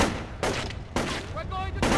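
Repeated bursts of gunfire ring out in Splinter Cell Chaos Theory, three sharp volleys in quick succession at close range, with a voice speaking between them.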